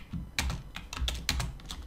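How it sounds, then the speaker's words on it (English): Close, brisk typing on a computer keyboard while programming in Java: a run of crisp, irregular key clicks and taps, with no voices. "typing everything out is just a right bugger"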